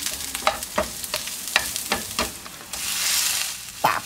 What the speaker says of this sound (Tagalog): Gisa na tayo ng garlic,